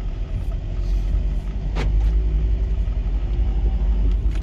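A VW T5 van drives along with a steady loud engine rumble inside the cabin, with a brief click as second gear is selected and no voices heard.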